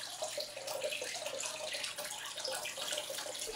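Tap water runs steadily from a bathroom bath during a water change for a 200-litre home aquarium, a continuous close rushing wash with no talk.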